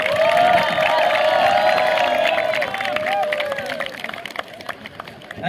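An audience at a college's first ethnic day celebration cheers, whoops and applauds loudly for the event organizers, a dense sustained roar of voices and clapping that eases slightly toward the end.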